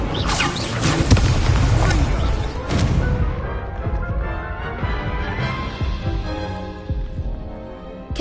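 Repeated Incendio fire spells are cast in Hogwarts Legacy, thudding and whooshing in heavy bursts over a dense, rumbling mix of combat sounds, with a sharp crash near the middle before things settle.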